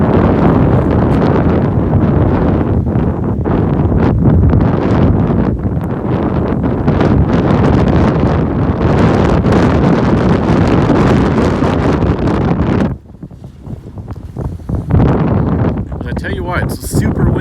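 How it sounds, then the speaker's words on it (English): Strong outdoor wind buffets the microphone in loud, roaring gusts ahead of severe storms, continuous for most of the time before dropping briefly and then rising again. "It's super windy."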